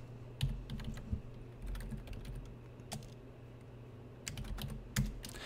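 Keys on a computer keyboard tapped in short irregular bursts while a command is entered, close and moderately loud over a steady low hum, with no voices.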